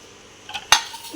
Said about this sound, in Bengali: আমি এই বাসনগুলো ধুয়ে নিই